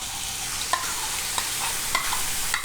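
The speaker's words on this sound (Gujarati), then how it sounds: "હવે આપણે આ પનીર જે મેરિનેટ કરીને રાખ્યું હતું એ આમાં એડ કરી દઈશું આપણે" Marinated paneer stirred into capsicum frying in a pan, a continuous hiss of sizzling with several sharp scraping strokes of the spatula at intervals, close and without talk.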